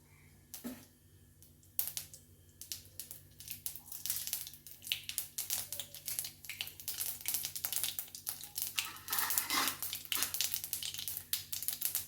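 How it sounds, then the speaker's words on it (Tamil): Mustard seeds splutter in sesame oil in a pan, starting as sparse pops and building into dense, crackling bursts of popping close by, with no speech. "கடுகு போட்டிருக்கேன் கடுகு பொறிஞ்சு வரட்டும்"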